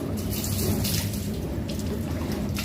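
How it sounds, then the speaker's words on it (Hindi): Water poured from a vessel over the left shoulder during ritual bathing, a steady continuous splashing and trickling that runs unbroken at close range with no voices. "इस तरीके से आप बाएं कांधे पे पानी डालेंगे"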